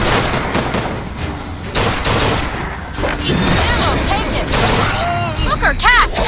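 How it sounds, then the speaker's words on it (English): Rapid carbine gunfire in BioShock Infinite, loud bursts of shots with booming impacts and chaotic combat noise, mixed with game voices and talk throughout. "Also, we're using a carbine now"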